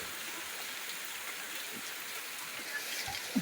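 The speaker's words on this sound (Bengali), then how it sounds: "এত বৃষ্টি হচ্ছে" Heavy rain falls steadily outside a shop, a continuous close hiss of drops on hard surfaces with a few brief knocks near the end and no talking.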